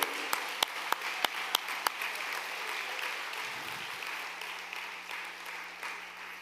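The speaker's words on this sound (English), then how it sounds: "Keep clapping." Sustained applause from an audience at a leadership award celebration, a dense steady wash of clapping with several sharp individual claps standing out at the start, moderately loud and continuous throughout.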